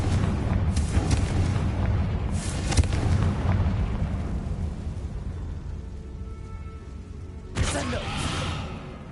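In the video game Hogwarts Legacy, a Confringo fire spell produces explosions: a few loud booming bursts, one near the start, one after a couple of seconds and another late, over rumbling game ambience.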